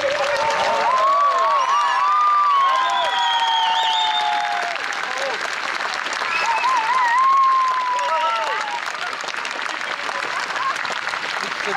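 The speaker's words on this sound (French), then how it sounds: "Une ovation, s'il vous plaît." At the tenth-anniversary show of the museum in Châtillon-sur-Seine, an audience gives a loud, sustained ovation: dense applause mixed with cheers and whistles running for about twelve seconds.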